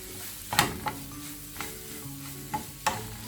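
Coconut and banana mixture being stirred in a pan over gentle sizzling, with a spoon scraping and tapping the pan in several distinct knocks spread across a steady low background, no voices.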